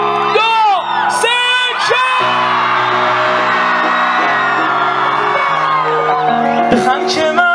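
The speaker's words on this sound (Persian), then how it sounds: "یک سوت و جیغ میخوام بکشین، صدا بره خوجن" A concert crowd in Dushanbe erupts in loud whistles, whoops and screams, with overlapping shrill whistles rising and falling over a continuous roar of cheering.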